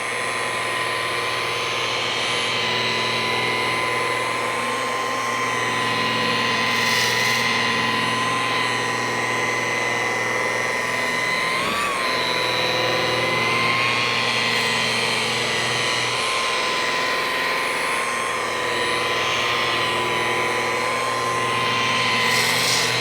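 A rotary polisher running at about 1400 RPM on boat gelcoat, a steady close motor whine with a stable tone, holding continuously for over twenty seconds with slight pitch dips.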